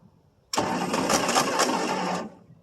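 The 390 FE V8 of a 1963 Ford Thunderbird makes a loud cold-start attempt after three years of sitting: a harsh burst of cranking and roaring that lasts under two seconds, then cuts off into near silence.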